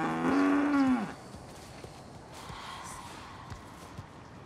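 A cow moos once, loud and close, a long lowing call lasting about a second, followed by quiet outdoor ambience with a few small knocks and shuffles.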